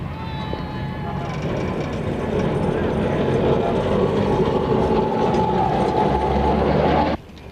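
A tram runs along a tramway in India in 1980, giving off a steady loud rumble and rattle with a faint higher whine for about seven seconds, then cutting off abruptly.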